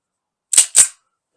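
Two sharp 9mm pistol shots from a Girsan Witness 2311 Match at an outdoor range, loud and close, fired in quick succession about a quarter second apart, followed by silence.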